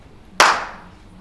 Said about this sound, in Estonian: Nii, seega minu plaksust.